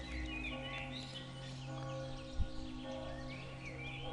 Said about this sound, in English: Hear the birds and the bells.